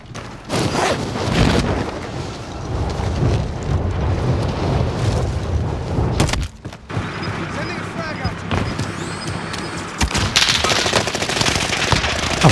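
Bursts of AS-44 rifle gunfire in Call of Duty: Warzone crackle over dense, noisy background action, with a voice talking over the shooting in places.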